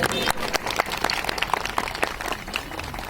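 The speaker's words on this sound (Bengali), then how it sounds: "সবাই একটু হাততালি দেবেন।" An audience at the inauguration of the Ganga Sagar Mela 2024 PHED Mela office claps in a steady patter of many hands, with voices mixed in.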